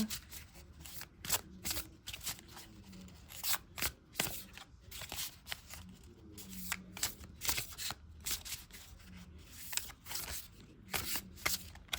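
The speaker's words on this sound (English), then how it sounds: "I'm going to go ahead and pull an oracle card for advice for you, Paul, too." A tarot or oracle card deck is shuffled by hand nearby, soft riffling and slapping bursts repeating irregularly throughout, fairly quiet with faint voice underneath at moments.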